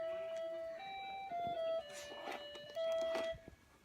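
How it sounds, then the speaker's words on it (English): A Mickey Mouse musical toy plays a simple electronic melody of bright, steady beeping notes, fairly faint, with soft background sounds and brief voices from a family dinner setting. "He's playing with his little Mickey Mouse musical toy here,"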